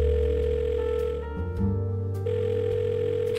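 Telephone ringing in the point-and-click adventure game Blackwell Deception: a steady electronic ring tone held nearly throughout, with a brief dip partway, and no voices over it.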